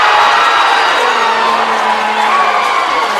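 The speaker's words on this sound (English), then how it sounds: "I just wanted you to hear that cheer from the crowd" A large crowd at a college volleyball match between West Texas A&M and Arkansas–Fort Smith cheers and whoops loudly, a sustained roar that fills the gym for the whole stretch.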